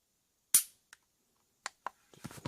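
A Glock 26 pistol fires one sharp, loud shot that decays quickly, followed by a few fainter clicks and mechanical clatter of the handling, in an otherwise quiet setting.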